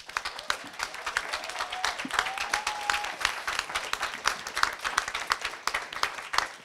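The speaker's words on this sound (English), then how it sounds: "Give you a round of applause for yourselves." A seminar audience applauds at the close of a session of presentations, a sustained burst of many hands clapping indoors, fairly close, with a few voices calling out beneath it.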